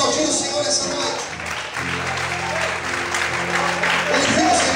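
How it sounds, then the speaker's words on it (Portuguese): A church congregation claps during an evening evangelical worship service, the dense applause running steadily throughout beneath sustained musical tones and a voice speaking over it. "Mais forte as palmas, aleluia."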